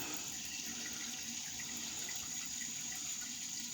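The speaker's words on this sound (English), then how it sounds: "Give this a rinse, clean it up." Tap water runs steadily over a silver-plated Clauss automatic razor from around 1905–1910 as it is rinsed, giving a soft, continuous splashing hiss at low volume.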